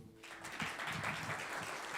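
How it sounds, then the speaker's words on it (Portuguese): A church congregation applauding during a sermon, a brief swell of clapping that rises after a short moment and holds steady, somewhat faint and reverberant. "Aplauda ao Senhor"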